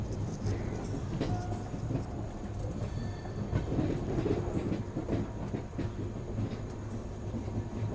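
A Machilipatnam–Bidar superfast express runs on its rails on the Bidar–Latur Road junction route, giving a continuous rumbling roll of wheels with faint clatter, moderately loud and steady throughout.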